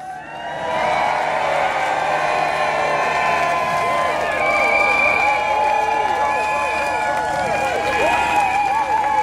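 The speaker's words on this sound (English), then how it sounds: "I want the loudest cheer of all now for the strikers at the front" Crowd at a PCS union rally outside the National Gallery cheering, whooping and applauding the striking workers at the front, a sustained, dense roar of voices and clapping that swells and holds throughout.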